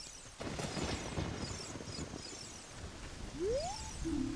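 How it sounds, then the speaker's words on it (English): Rain in The Legend of Zelda: Ocarina of Time near the royal family's tomb: a soft, steady hiss of falling rain under faint game ambience, with a short rising tone near the end. "if we get closer up here, it starts raining"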